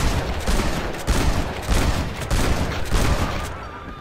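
Gunfire in the Western game Red Dead Redemption, a loud volley of repeated shots in uneven bursts with echoing tails, with no talking over it.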